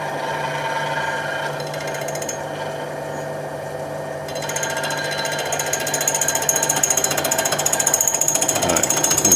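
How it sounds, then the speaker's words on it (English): A power drill runs steadily and loudly, its whine growing harsher and more rattling about halfway through, with no talking. "I'm going to start the drill."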